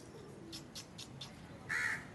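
A crow caws several times in quick succession outdoors among pigeons, fairly close, followed by a louder, longer call near the end.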